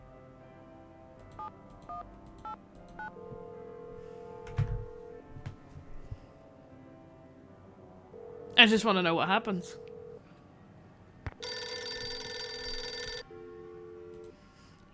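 Telephone dialing in the Nancy Drew game The Final Scene, a series of short keypad tones followed by steady electronic ringing bursts, with a person speaking briefly between them.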